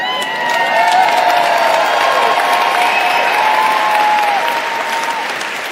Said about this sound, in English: So all this shouting and clapping is fine